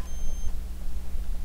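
A single short, high-pitched beep sounds at the start of a scene in the video game Kingdom Hearts Chain of Memories, then stops, leaving a low steady hum.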